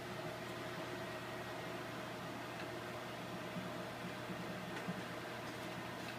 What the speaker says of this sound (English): So you throw it into the microwave for about 20 seconds and let it cook